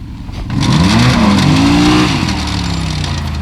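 A Yamaha Rmax1000 or Textron Wildcat Trail side-by-side launches hard in two-wheel drive during a drag race, its engine surging from idle into a loud, rising roar that holds strong before easing slightly.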